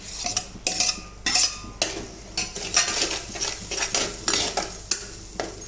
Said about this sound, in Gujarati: હવે એમાં હું થોડું લીલું લસણ એડ કરું છું અને ટામેટા એડ કરું છું